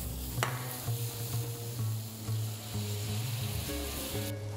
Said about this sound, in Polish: Krewetki smażymy szybko.